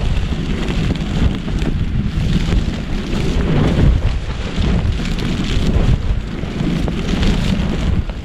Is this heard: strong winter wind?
yes